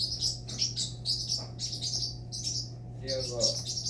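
A pet parrot chirps and whistles in rapid bright bursts close by, with a steady low hum underneath and a brief murmur of voice near the end.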